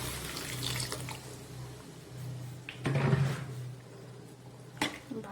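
Water from a kitchen tap poured into a pan while making rohu fish curry, a short splashing pour with a steady hiss, close and moderately loud, with brief clatter of cookware around it.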